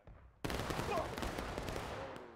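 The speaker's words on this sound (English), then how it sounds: "Lovely volleys." Massed musket volley in War of Rights erupts suddenly as a loud, dense crackle of many shots fired together, then rolls and decays over about two seconds.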